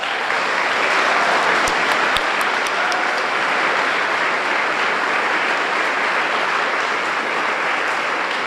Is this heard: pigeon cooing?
no